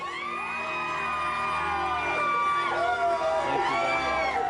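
A crowd gathered outside a courthouse, shouting and cheering in a loud, close swell of overlapping voices.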